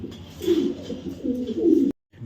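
A racing pigeon gives a single close, throaty coo lasting a couple of seconds before cutting off abruptly.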